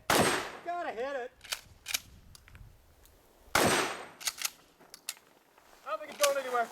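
Shotgun shots fired at an action shooting side match, two loud sharp blasts about two seconds apart, each followed by fainter clanks and steel target hits, with excited shouts and talk between the shots.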